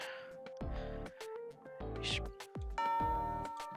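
A Fate Extra video game school bell rings in a series of bright, sustained chime tones layered with game music and intermittent voices, notes overlapping and ringing out across several seconds.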